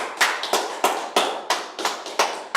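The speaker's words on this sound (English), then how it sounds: "Clap it up, man. Clap it up." Rhythmic hand clapping at a law class gathering, about nine sharp, evenly spaced claps in a steady beat, close and crisp with no talking.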